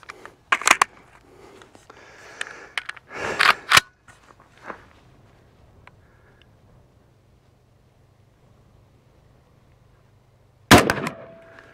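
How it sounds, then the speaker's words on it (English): An IWI Carmel 5.56 piston rifle fires with its dust cover open: a few sharp, loud cracks clustered early, then quiet handling noises and one more loud shot near the end. "So it shoots and cycles just fine with the dust cover open"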